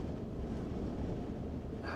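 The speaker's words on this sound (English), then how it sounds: "It's so windy." Strong wind buffets a drone's microphone over the Sundhnúksgígar volcanic eruption area in Iceland, a steady loud low roar rumbling without pause.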